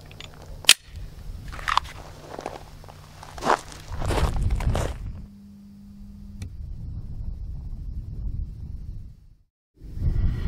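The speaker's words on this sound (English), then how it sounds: "let's go ahead and shoot that 1 round" A single handgun shot cracks out sharply at an outdoor shooting range, followed by several seconds of footsteps, shuffling and handling noises nearby.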